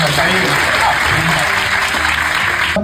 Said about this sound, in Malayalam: കൈയടി പോരാ ഗോകുലിന്റെ കഥയ്ക്ക്,